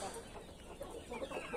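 Hens clucking in a home yard where chicks are kept, soft repeated clucks with a few brighter calls toward the end, quiet and fairly close with no talk.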